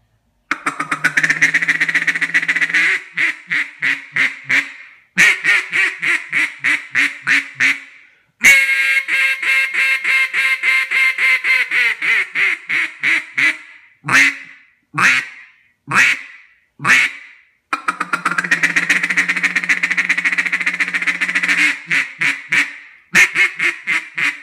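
A bocote wood double reed duck call blares loud, raspy quacks close up, in rapid rhythmic runs, longer drawn-out calls, and single sharp honks.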